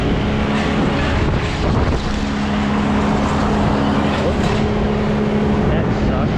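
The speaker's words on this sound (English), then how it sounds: "they're about to idle that chipper up" Wood chipper engine running outdoors, a loud continuous droning roar with steady low tones, heavily buffeted by wind noise, with someone talking faintly over it.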